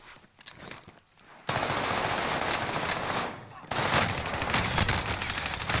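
Sustained automatic gunfire from a Marco 10 in Call of Duty: Warzone, a loud dense burst that starts abruptly and keeps going with a brief dip before resuming just as hard.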